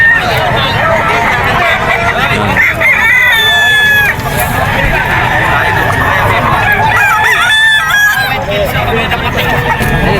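A sinibalang gamefowl rooster crows repeatedly at a busy pet market in Bocaue, loud and close, over dense crowd babble and other clucking fowl.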